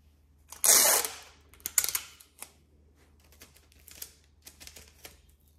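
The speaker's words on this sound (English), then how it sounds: "take your normal one-sided tape and tape as neatly as you can, just up the length of that middle" One-sided sticky tape rips sharply off its roll, followed by a string of small crackles, taps and pats as it is pressed down along the wrapping paper on a tub of sweets, close and quiet apart from the first tear.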